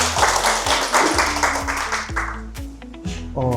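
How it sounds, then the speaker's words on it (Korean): At a restaurant-marketing lecture, an audience bursts into applause, a loud clatter of claps that fades partway through while tonal music plays underneath, with a louder musical phrase entering near the end. "박수 한번 부탁드립니다"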